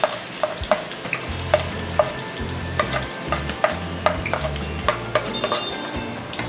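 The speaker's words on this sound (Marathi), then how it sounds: "कांदा टाकते." Onion goes into hot oil with mustard seeds in a pan and sizzles steadily up close, with sharp clinks of a spoon stirring against the metal at a quick, uneven rhythm.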